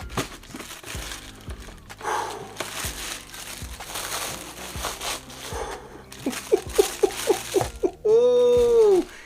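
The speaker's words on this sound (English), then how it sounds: "So you got your basic white, gray Asics paper." White and gray Asics wrapping paper crinkles and rustles in close, uneven handling, with a voice speaking at times over the crackling.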